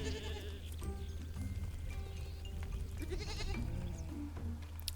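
Sheep bleating amid a steady low farmyard rumble, with several wavering calls rising over the continuous background noise.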